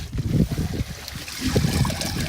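Gray water trickling out of an RV holding tank during dumping, a steady low gurgling flow that swells and eases over a couple of seconds, close and fairly loud with no talk.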